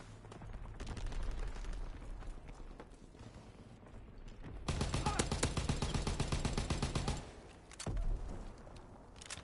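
Bursts of automatic gunfire rattle through a Call of Duty battle, with sparse shots early on and a dense, sustained volley in the middle. A shorter burst follows, and the whole exchange sounds moderately distant.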